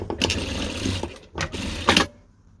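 Sewing machine stitching a seam on a small handmade bag, close and fairly loud, running in short whirring bursts with brief pauses between them, no talk.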